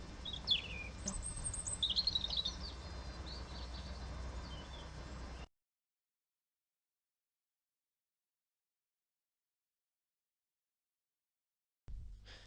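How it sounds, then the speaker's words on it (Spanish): European robin song in a forest: a sequence of high, thin chirping and warbling phrases over soft background ambience, then silence for several seconds before faint ambience returns. "El pájaro vuelve a cantar,"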